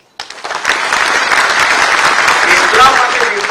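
An audience at a police appointment-letter ceremony breaks into applause that starts abruptly and holds as a dense, even clapping throughout.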